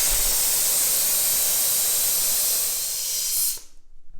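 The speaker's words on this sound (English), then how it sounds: "we're going to air down real quick, get them all to 10 on this side, on the passenger side, front and rear" Air hisses steadily out of an off-road tire being aired down to about 10 psi, a loud broadband rush that holds for several seconds before cutting off abruptly, leaving faint handling noises.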